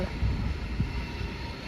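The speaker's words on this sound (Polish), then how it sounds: "I wjeżdża pociąg Regio Kasprowy" The Regio Kasprowy passenger train rolls into Zakopane station with a low, continuous rumble and a faint hiss above it, carrying on steadily with a couple of soft knocks.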